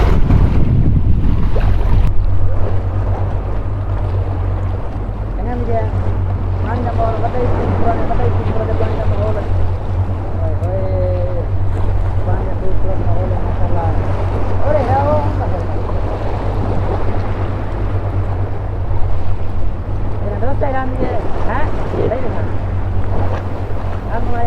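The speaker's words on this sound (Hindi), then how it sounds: "माशाल्लाह, बहुत तेज़ पानी है।" Fast-flowing water rushes by on a windy waterside with a steady loud roar and wind buffeting the microphone, while someone talks excitedly over it throughout.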